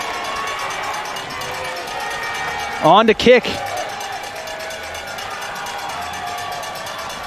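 A college football crowd at a Langston vs SAGU NAIA game makes a steady distant stadium murmur before a field goal attempt, with a commentator speaking over it throughout.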